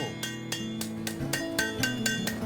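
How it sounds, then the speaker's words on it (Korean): A hammer pounds hot iron at a traditional blacksmith's forge. About eight evenly spaced, ringing metallic strikes come close and loud in a steady rhythm, with no voices. "이 망치 두드리는 소리"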